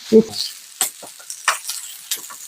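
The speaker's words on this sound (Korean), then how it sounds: "고기 지금 불이 올라오거든요. 얼른 올리겠습니다. 지글지글지글지글지글지글지글." Pork jowl meat on a hot grill, giving sparse, crisp crackles and pops spread unevenly, close and fairly loud, with a short low vocal sound at the very start.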